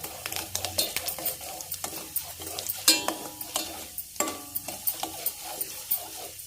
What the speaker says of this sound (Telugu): తాలింపు గింజలు వేసాను. ఆవాలు, జీలకర్ర, మినపప్పు వేసాను.